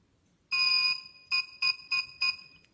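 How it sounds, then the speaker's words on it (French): A Xiaomi M365 electric scooter's beeper sounds an error code: one long tone followed by four short beeps in quick succession, clear and fairly quiet against near silence. "ça se matérialise par un bip long et 4 bips courts comme ceci"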